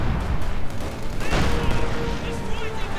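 Bursts of gunfire and explosions rumble in a World War II real-time strategy game with Panzer grenadiers, loud and dense throughout.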